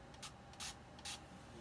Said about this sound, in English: I just spray it with some alcohol.